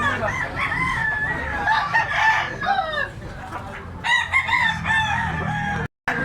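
Bullstag gamecock crowing at a cockfighting venue in Tabunok, Cebu, repeated rooster crows and clucks rising above a busy murmur of background voices, with another close crow near the end.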